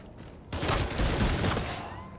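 A Trencher gun in Call of Duty: Infinite Warfare multiplayer opens up suddenly after a quiet moment, unleashing a loud, rapid automatic burst that rattles on for over a second and a half.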